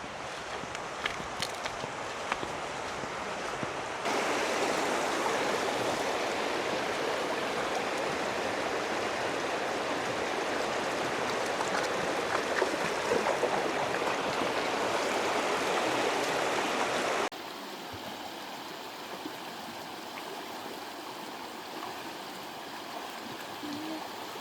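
A small creek flowing near a Montana cabin makes a steady, full rushing wash of water, close and constant, shifting to a softer, more distant murmur toward the end.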